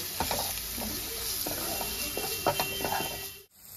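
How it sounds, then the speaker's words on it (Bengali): Spices such as cumin and turmeric powder with chopped green chillies being stirred and fried in a pan, a steady sizzle broken by soft scraping strokes, close and moderately loud, cutting off abruptly near the end. "এবার সব মশলা ভালো করে মিশিয়ে নেব।"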